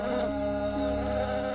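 Bees buzzing steadily around a beehive being carried, a continuous insect drone heard close and fairly loud throughout, with no talk over it.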